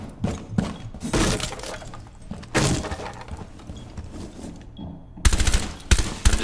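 Gunfire in Rainbow Six Siege rips through a wall in loud, close bursts, rapid strings of shots with shattering debris between them, then short pauses and two sharp final bursts.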